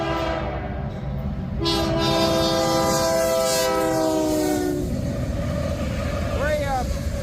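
A BNSF-powered freight tank train hauling petroleum crude oil passes near Webster Road outside Wellington, Ohio, its horn sounding in long sustained blasts over steady rumbling rail noise, loud and close.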